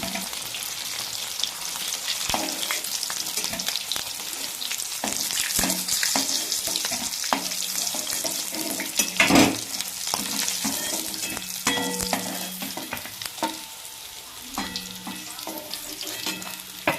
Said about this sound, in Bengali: বাকি মাছগুলো ভেজে